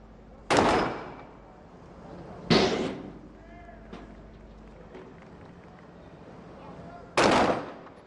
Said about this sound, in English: Good clean shots from the Bahrain Defence Force B team sniper.